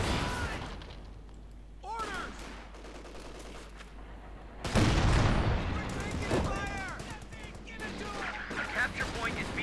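Bursts of machine gun fire and distant explosions in a video game battle, repeated rattling volleys with a heavy boom midway, heard under steady commentary speech.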